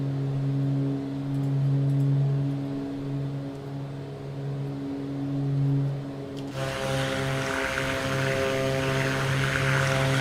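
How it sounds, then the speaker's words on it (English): Twin piston engines of a Beechcraft Baron B58 in a flight simulator game, run up to maximum RPM, give a steady droning hum with a layered propeller tone, joined midway by a brighter rushing noise. "So mixture's fully rich. Start increasing the RPM to max."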